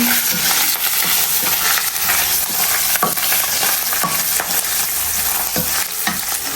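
Small puti fish frying in hot oil in a pan, a loud continuous sizzle broken by repeated sharp clinks and scrapes of a utensil stirring and turning them, close by.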